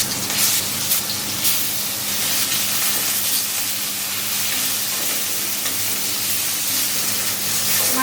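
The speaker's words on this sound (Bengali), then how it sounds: "মাছ ভাজা হয়ে গেছে" Fish seasoned with salt and turmeric fries in hot mustard oil, giving a steady, dense sizzle and hiss that continues without pause, with no one talking.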